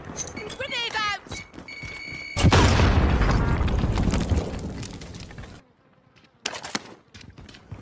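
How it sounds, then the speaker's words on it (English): A grenade goes off in a Rainbow Six/Warzone match: one loud close boom with a long rumbling tail, preceded by gunfire and followed by quieter game sounds, with players talking around it. "Grenade out!"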